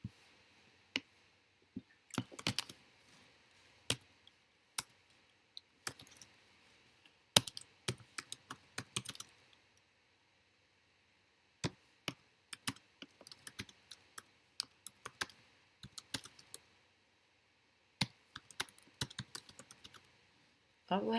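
Fast typing on a computer keyboard arrives in quick irregular bursts of clicky keystrokes, separated by short silent pauses, close and fairly loud.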